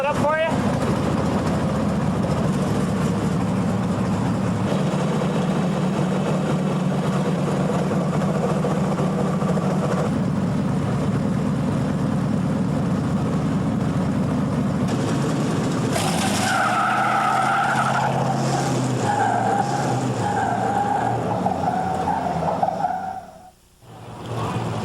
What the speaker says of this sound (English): It is Auto Trans Championship drag racing